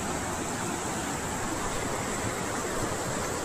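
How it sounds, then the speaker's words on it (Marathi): Water rushing down from a dam in Pali, Raigad, a steady, loud broadband roar of falling water with no breaks and no voices. "धरणावरून वाहून येणारा पाणी"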